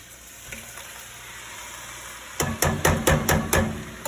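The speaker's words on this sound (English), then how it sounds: "we're going to add the tomatoes and the tomato sauce. That's going into the pot." Canned tomatoes and tomato sauce with Italian spices pour into a soup pot with a thick wet slosh, starting quietly and then landing in several heavy splattering bursts over the last couple of seconds.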